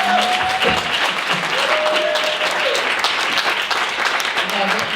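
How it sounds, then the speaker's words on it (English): An audience at a women's sisterhood summit panel session claps loudly and steadily for five seconds, dense applause with scattered cheers and voices mixed in. "Can we give them a round of applause, please?"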